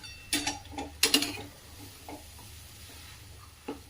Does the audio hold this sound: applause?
no